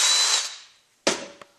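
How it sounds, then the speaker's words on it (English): A power drill with a 5/16 or 3/8 inch bit whirs briefly to touch up hole edges on a Mitsubishi DSM shift kit part, then stops and gives one more short burst, close and loud. "get a bigger drill bit, 5/16, 3/8, doesn't really matter. And I just kind of touch these hole sizes"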